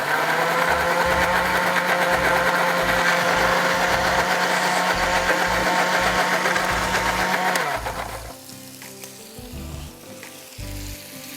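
A blender whirs loudly and steadily, mixing satay sauce of soy sauce, peanut butter and a chicken stock cube with a little water, then stops abruptly, leaving quiet kitchen clatter.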